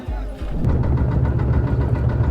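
A boat engine runs on the Jamuna river near Sariakandi, Bogura: a steady, loud low rumble and hum that settles in after the first half second and drones on without a break.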